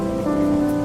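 Rain pours down in a 2D animated Hindi story about a poor farmer whose crops are ruined, a brief, fairly loud, steady patter with no speech over it.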